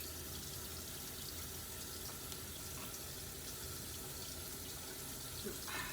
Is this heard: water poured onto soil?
yes